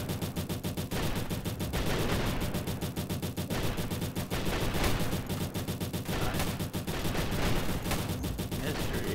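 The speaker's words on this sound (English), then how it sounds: "Your minigun dude is shooting way over here." A minigun tower in the Roblox game Tower Battles fires in a dense, continuous rattle of rapid shots that keeps a loud, steady pace throughout.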